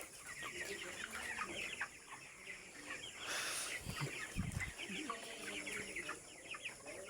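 A flock of broiler chickens, some weighing about 2 kilograms and some recovering from illness, clucks continuously in overlapping, fairly faint calls against a busy farmyard background.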